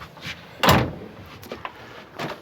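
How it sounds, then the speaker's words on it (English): A door on a barrel boat swings shut with one solid thump, followed by a few softer knocks and rattles nearby. "Here, I'm going to close the door on you."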